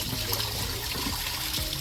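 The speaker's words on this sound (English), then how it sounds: "It's a water tap" Mountain water running steadily from an outdoor tap on a hike in Germany, a continuous close splashing flow with no talk.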